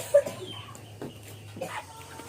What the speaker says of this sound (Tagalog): Mamahog na tayo ng pato at saka manok.